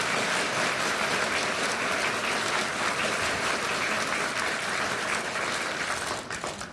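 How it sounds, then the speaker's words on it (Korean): Sustained applause from the audience at a justice minister's inauguration ceremony, a thick, even wash of clapping that holds steady before tapering slightly at the end. "제가 부탁드렸는데 박수 안 치십니까?"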